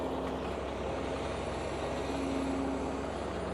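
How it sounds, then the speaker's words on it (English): Rock truck hauling pay dirt at a gold mine, its heavy diesel engine rumbling steadily and loudly close by, with no one talking. "We're loading it into the rock truck."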